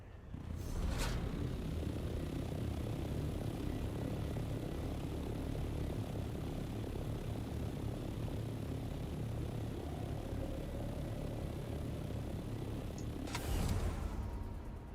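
An aircraft glides in the video game Dune: Awakening, a steady rushing engine and wind drone held at even loudness for the whole span, with brief sharp swells near the start and end and no talk.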